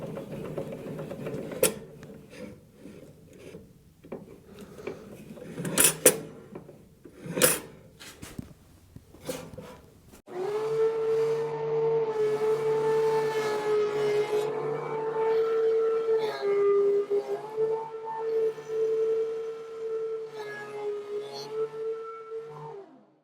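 Wood planer feeding a board just under an inch thick, preceded by scattered clunks and knocks, then a sustained close mechanical hum with a steady tonal whine as the board passes through.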